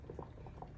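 A pan of water boiling with jar lids in it for canning muscadine jam in a home kitchen, a soft continuous bubbling with small pops, heard close but quiet.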